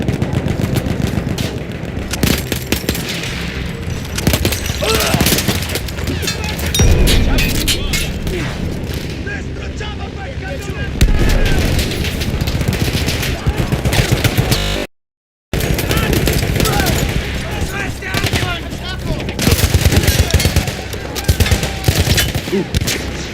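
Machine gun fire in the World War I shooter Battlefield 1, loud sustained bursts with booming impacts and battle din, briefly cut by a moment of silence; voices shout in the background.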